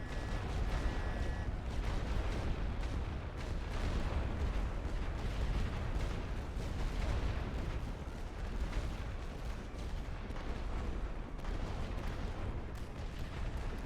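A dense artillery barrage in the World War I video game The Great War: Western Front rumbles continuously, with heavy booms and overlapping blasts forming a steady, loud roar throughout.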